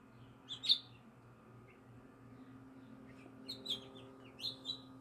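Pet birds chirp while bathing, giving a few sharp, bright tweets near the start and a quick cluster of calls toward the end, with quiet gaps between them.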